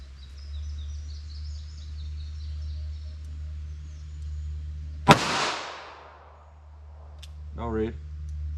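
A single sharp gunshot from a .32 H&R Magnum snub-nose revolver firing a 95 grain semi-wadcutter cracks out, loud and sudden, then rings off, over a steady low hum with faint birdsong before and a brief voice after.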